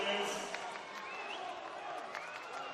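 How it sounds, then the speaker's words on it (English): Football crowd at a Wollongong Wolves v Sydney FC NPL men's match in NSW cheering and rallying their team ahead of a corner, a steady broad roar with scattered whistles, heard under a commentator's voice. "Crowd trying to rally their team here now."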